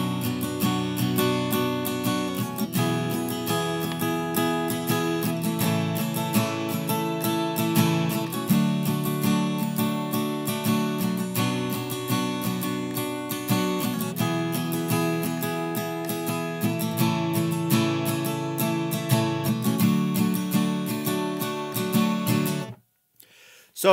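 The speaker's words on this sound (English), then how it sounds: "then we're going to move on to the strumming pattern, which is going to sound like this." Acoustic guitar strummed fast in a steady pattern of mixed up and down strokes, playing the chords of a song, continuous and full for about 23 seconds before cutting off abruptly.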